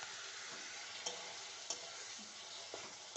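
Ginger, onion and green chilli fry in a pan, a faint, steady hiss of sizzling oil with a few soft clicks of stirring, with no talk.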